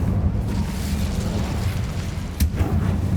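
Incendio fire spell cast in the video game Hogwarts Legacy, a loud rumbling, roaring burst of fire that sustains with a low boom and a sharp crackling flare near the end.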